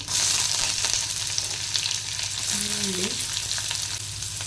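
Mustard seeds, cumin and curry leaves crackle in hot oil, a loud, dense, steady sizzle heard up close, with a brief squeaky tone partway through.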